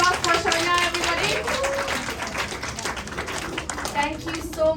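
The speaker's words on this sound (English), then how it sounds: "Round of applause for Shana, everybody." Applause from a poetry slam crowd of primary and secondary students for their trainer, light, uneven clapping mixed with voices and chatter across the room.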